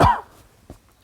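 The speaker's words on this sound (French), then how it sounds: "je vais tousser" A single sharp, close cough at the start, then a faint short throat sound, with near silence between.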